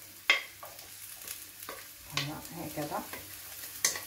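Onion frying in hot oil in a pan, with quiet sizzling and a few scraping stirs, faint and close; a brief word is spoken.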